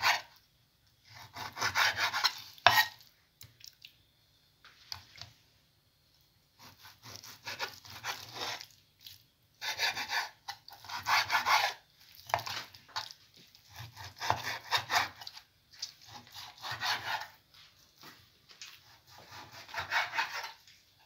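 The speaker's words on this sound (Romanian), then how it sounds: "Pentru început voi tăia mărunțel bucățelele de carne. Le tăiem cuburi." Veal being cut into small cubes with a knife for goulash, producing repeated bursts of scraping, rasping cuts on a wooden board, with short pauses between strokes and no voices.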